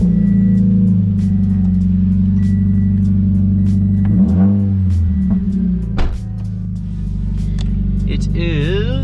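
A car engine, slated for a 2JZ swap, runs loud and close for the whole stretch, its steady low rumble swelling into revs at about four and six seconds, with brief chirping sounds near the end.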